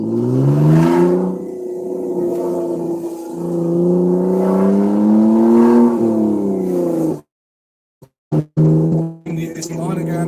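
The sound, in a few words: BMW car exhaust sound while driving with windows down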